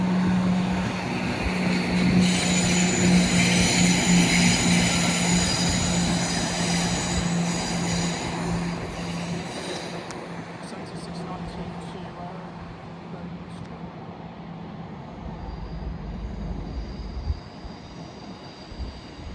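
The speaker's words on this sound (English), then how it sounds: "Cross country service from Stansted Airport to Birmingham New Street." A CrossCountry passenger train from Stansted Airport to Birmingham New Street passes through Nuneaton station on the West Coast Main Line, a loud sustained rumble with a low engine drone that fades over the clip, a platform announcement heard over it.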